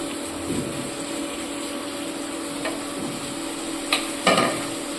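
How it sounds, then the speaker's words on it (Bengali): Mutton with garlic paste being stirred and browned in oil in a pan, Bengali mutton curry style, giving a soft, steady sizzle broken by a few brief scraping stirs. "এইভাবে ভালোভাবে নাড়াচাড়া করে ভালোভাবে কষে নিতে হবে তেলের উপর।"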